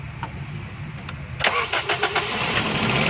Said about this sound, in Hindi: सबसे पहले गाड़ी स्टार्ट करेंगे।